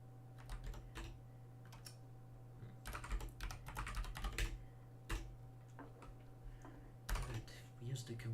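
Bursts of quick tapping on a computer keyboard, irregular clusters of keystrokes with short pauses, fairly quiet and close, with a steady electrical hum underneath and occasional speech between the bursts.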